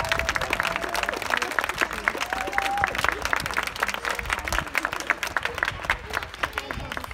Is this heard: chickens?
no